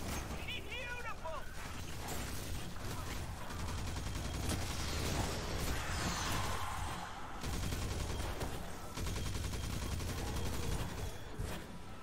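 Sustained gunfire in the video game Destiny 2 Forsaken, rapid continuous shots and mechanical weapon sounds with brief pauses between bursts, loud and close, with a voice speaking over parts of it.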